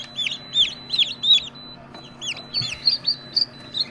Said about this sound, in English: That's a lot of chickens.